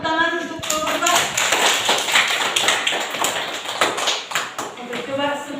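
A classroom of students claps for a student group, a burst of quick overlapping hand claps with taps and thumps, while voices are heard alongside.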